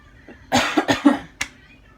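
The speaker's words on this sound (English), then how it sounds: "Cough, cough. My goodness, excuse me." A short burst of several harsh coughs in quick succession, close to the mic, followed by one more sharp cough after a brief pause.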